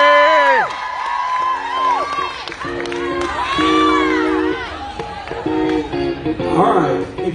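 Audience on a Carnival cruise ship stage cheering and whooping for Kathy, loud overlapping shouts and yells rising and falling, with some clapping near the end.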